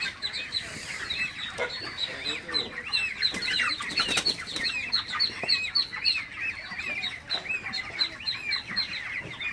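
A flock of broiler chickens in a shed clucks and chirps continuously at close range, with overlapping high cheeps and occasional louder bursts of movement.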